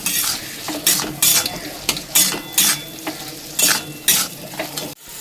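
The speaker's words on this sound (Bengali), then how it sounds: "এখন এটাকে ভালো করে কষিয়ে নেব।" Shrimp and bottle gourd leaf mixture with salt being sautéed in a pan, a spatula scraping and stirring in repeated strokes over a steady close sizzle, with no talk.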